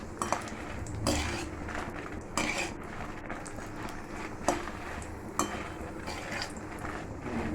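Dried red chilies dry-roasted in a pan for gongura pachadi, with steady sizzling and crackle under repeated clinks and scrapes of a utensil against the pan, no voices.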